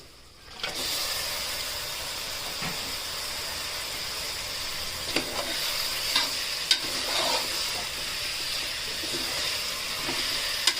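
750 g of mutton is added to hot ginger-garlic paste and stirred, giving a continuous close sizzle and hiss with scraping stir strokes and occasional clanks of the spoon against the pan.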